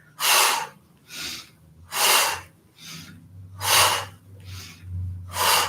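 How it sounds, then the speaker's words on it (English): Forceful breaths pushed out through the mouth during a workout breathing exercise, about seven loud whooshing exhales in a steady rhythm, close to the mic with a faint low hum beneath. "Breathe out through the mouth."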